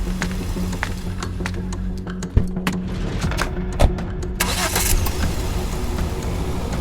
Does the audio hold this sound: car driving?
yes